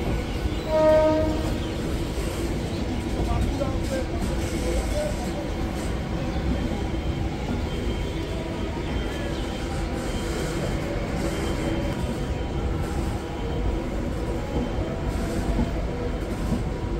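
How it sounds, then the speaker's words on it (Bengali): A train on the Ranaghat to Majdia line rumbles steadily from inside, with continuous rolling wheel and carriage noise, faint squeals and a brief horn-like tone near the start. "আমাদের ট্রেন কিন্তু 3 নম্বর প্ল্যাটফর্মে দাঁড়িয়ে রয়েছে"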